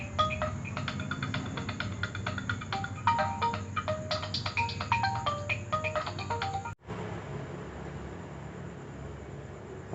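An outgoing phone call plays a repeating electronic ringing melody through the handset for several seconds, then cuts off abruptly into a low line hiss.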